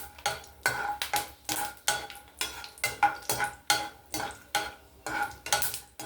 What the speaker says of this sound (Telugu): కొంచెం వేరుశనగ గుళ్ళు వేస్తానండి.